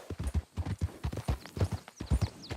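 Horse hooves clip-clop in the video game Red Dead Redemption 2, a brisk, even trotting rhythm of close, clear hoofbeats heard alone.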